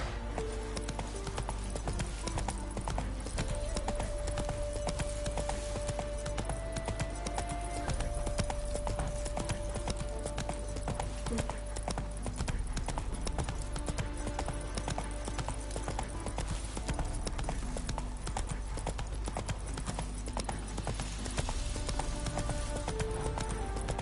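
In The Witcher 3, a horse gallops with steady, rapid clip-clopping hooves over a continuous bed of game music and ambience, loud and unbroken throughout.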